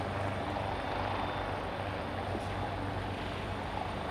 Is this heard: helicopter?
yes